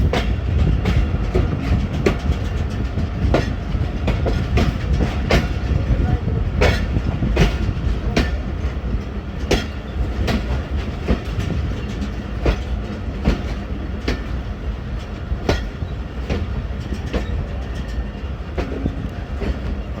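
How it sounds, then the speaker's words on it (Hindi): Jaffar Express standing on the loop line at Domeli station in foggy winter weather, with loud constant rumble and repeated rhythmic clicks and clacks of wheels over rail joints. "डोमेली रेलवे स्टेशन पे ट्रेन हमारी लूप लाइन पे लग गई है।"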